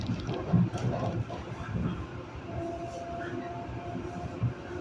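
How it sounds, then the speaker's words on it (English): A Long Island Rail Road train to Hempstead rolls along the tracks, heard from inside the car as a steady low rumble with rhythmic clatter and some wind noise. "This is the train to Hempstead."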